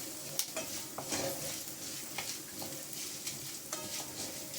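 Coriander seeds, chana dal and urad dal dry-roasting and being stirred in a pan, a steady crackling hiss broken by scraping stirs and small clinks, close and moderately quiet, without voices.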